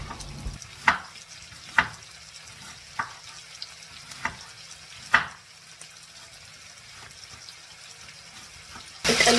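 Zucchini and other vegetables fry softly in a pan, a low hiss punctuated by several sharp clacks and scrapes of a utensil at irregular intervals, with a brief louder burst at the very end.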